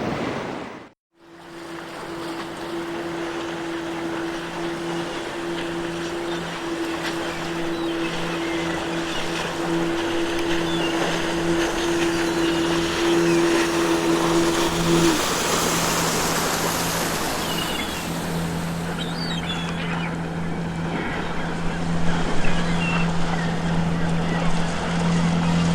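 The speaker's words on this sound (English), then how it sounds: "Welcome aboard my humble boat." A video-game boat's engine hums steadily as it moves over ocean waves, with constant surf and wind noise throughout and a sustained tonal drone that drops away partway through.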